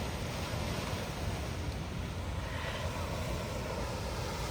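A bubbling hot mud pot at Yellowstone's Fountain Paint Pot gives a continuous broad rushing, surf-like wash, steady and fairly close, with no talk over it.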